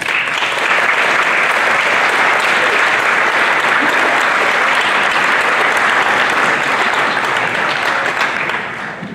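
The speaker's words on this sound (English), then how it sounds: "give them a round of applause" Sustained applause from a sizable crowd at a spring sports awards ceremony, dense and even clapping for several seconds before tapering off at the end.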